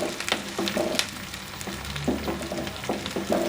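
Onions and green chillies sauté in a pan for pumpkin sabzi, giving a steady frying sizzle with occasional stirring scrapes, close and moderately loud, with no talking.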